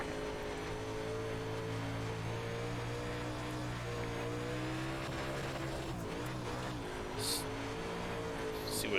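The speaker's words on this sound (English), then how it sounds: "it just spun the tires up off the corner" A UMP modified race car in iRacing at Eldora's dirt track roars steadily at high revs as its tires spin off the corner, with a continuous loud engine note that wavers and dips briefly partway through.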